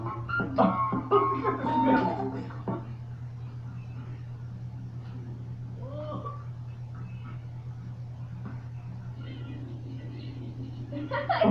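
Cats fighting: tense yowls and meow-like cries rise and fall near the start and again around the middle, heard under voices talking and a steady low hum.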